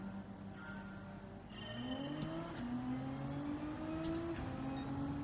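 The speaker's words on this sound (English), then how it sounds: "Decent gear change to kick off." Nissan Gr.3 race car in Gran Turismo 7 at the start of a race, engine droning and rising in pitch through a gear change, steady and fairly loud with no one talking.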